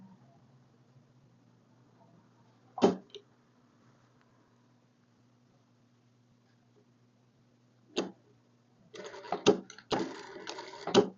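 Sewing machine stitching a child's dress: two short isolated clicks of the mechanism, then a close burst of quick stitching near the end over a faint steady hum.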